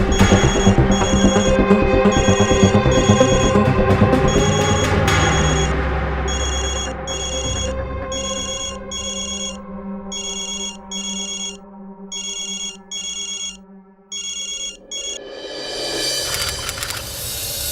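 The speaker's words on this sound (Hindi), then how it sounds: "आप प्लीज फोन उठा लीजिए।" A telephone rings in an office with a repeating electronic ringtone, its bursts loud and regular over a mix of other sound at first, then standing more alone in a steady ring pattern.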